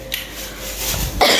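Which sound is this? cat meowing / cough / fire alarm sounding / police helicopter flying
cough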